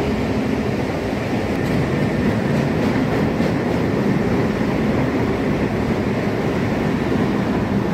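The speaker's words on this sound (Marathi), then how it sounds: "ही मेट्रो चालली आहे." A Chicago underground metro train runs through Quincy station in the downtown subway, a loud, steady rumbling roar with faint rail clatter that fills the whole stretch.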